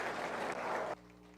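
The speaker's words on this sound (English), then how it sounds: "So let's give all these kids a good round of applause." An audience at a 4-H county fair beef show claps for the kids in a dense, steady burst of applause that stops abruptly after about a second.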